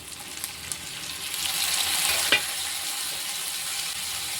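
Tomatoes tipped into onions frying in a pan raise a rising, steady sizzle with a brief clatter of stirring, the hiss staying close and constant throughout.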